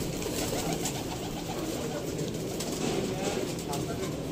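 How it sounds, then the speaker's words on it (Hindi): Fancy golden pigeons kept for pigeon flying in Sialkot coo steadily in a loft, a continuous low murmur with a broad hiss of background noise and faint voices. "दोस्तों मसाली कबूतर ने"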